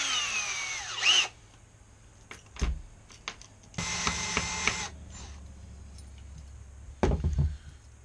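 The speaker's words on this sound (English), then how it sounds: "Let's go in with this one, see if we can drill a nice straight line." Small drill bit boring a hole into a chatterbait fishing lure, heard as a few short bursts of high whining drilling with brief pauses and clicks between them, close and moderately loud.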